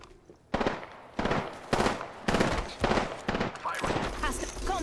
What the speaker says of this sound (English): Firing. Contact with hostile.